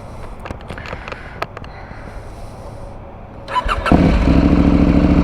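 Some faint clicks and handling noises, then a KTM 790 Adventure R motorcycle engine cranks and fires up into a loud, rumbling idle from a throaty aftermarket exhaust close by.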